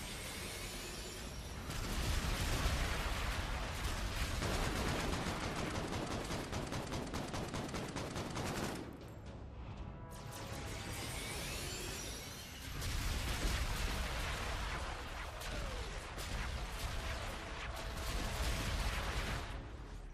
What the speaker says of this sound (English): Take cover. Enemy bombardment incoming.